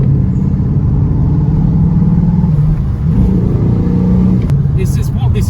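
A 2018 Ford Mustang GT with its 5-litre Coyote V8 drives along, the engine giving a steady, loud low rumble that swells slightly under acceleration. A brief sharp click sounds near the end.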